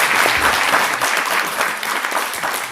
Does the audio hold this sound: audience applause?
yes